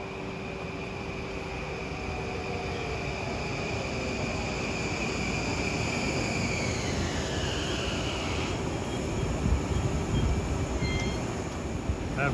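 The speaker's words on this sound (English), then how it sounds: "We'll see 3 more diesels" Long Island Rail Road diesel train rumbling past at Carle Place station, a steady broad roar with a faint high tone sliding downward as it passes, no voices.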